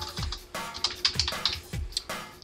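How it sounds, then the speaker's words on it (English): Keystrokes on a computer keyboard while a company name is typed into a Facebook status update: a quick, uneven run of close clicks with soft low thumps and no voices. "as I type in SBX Media"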